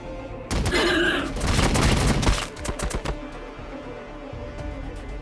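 Heavy gunfire volley in the turn-based strategy game Battlesector, with Blood Angels troops opening fire: a dense, loud burst of overlapping shots lasting about two seconds, followed by scattered sharper reports and lingering battlefield rumble.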